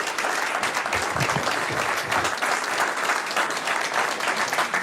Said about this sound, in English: Another round of applause for Mayor Karen Bass.